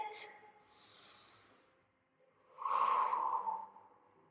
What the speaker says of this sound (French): Inspirez en haut et soufflez